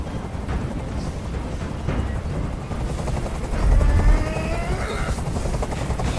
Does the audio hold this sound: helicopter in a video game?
yes